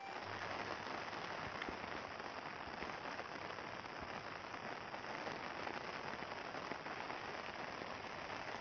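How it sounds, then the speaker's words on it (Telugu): Rain falls steadily on a farm field as a faint, even hiss of patter with no break and no voices. "వాన పడుతుంది నా తడుపుతురే"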